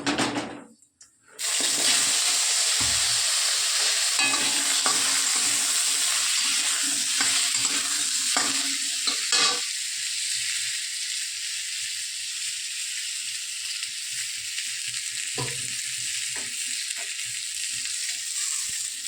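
Panch phoron and dried red chillies sizzle in hot oil, starting with a brief clatter and then settling into a steady, close, bright frying hiss with scattered crackles and pops, no voices.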